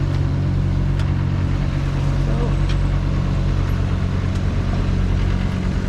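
A sailboat motors under engine power against the tide in light air near Southwest Harbor, Maine, its steady low engine drone continuous and fairly loud throughout, with wind and water noise layered over it.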